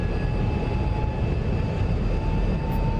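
An F-35B jet in the DCS flight simulator roars with a steady, loud engine drone and a constant high whine.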